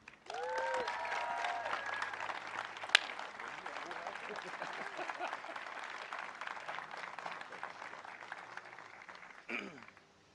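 A crowd applauds the governor at a Howard County affordable housing announcement, with sustained clapping throughout and speech-like voices mixed in.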